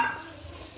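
Soybean and potato curry with chilli powder and a splash of water stirred in a pan, a soft continuous scraping and gentle sizzle, close and steady for a brief moment with no talking.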